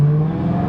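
BMW E90 M3 fitted with a full titanium exhaust, revving in an enclosed garage: a loud, steady engine drone with a strong low hum, brief and alone with no talk.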